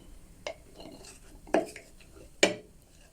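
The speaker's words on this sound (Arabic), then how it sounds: "نبدا نحرك اللي كنخلط الخليط كله" A spoon stirs a honey and lemon juice mixture in a glass or bowl, making three distinct clinks against the side at a steady, unhurried pace, with faint scraping between them.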